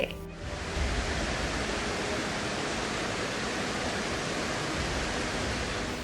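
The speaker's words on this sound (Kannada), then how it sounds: "ಮುಂಗಾರು ವರ್ಷಧಾರೆಗೆ ಜಲಮೂಲಗಳೆಲ್ಲ ಧುಮ್ಮಿಕ್ಕುತ್ತಿದ್ದು" A monsoon-swollen waterfall in Karnataka pours down with a loud, steady, broadband roar that fills the whole clip without pause and with no voices.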